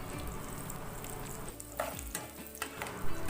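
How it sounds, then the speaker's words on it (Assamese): Cashews and almonds fry in oil for basmati pulao, making a faint, steady sizzle with stirring clatters and a few soft knocks near the end, and nobody speaks. "মই বাচন্তি পোলাওখিনি দিবলৈ কাজু আৰু বাদাম ভাজি লৈছোঁ"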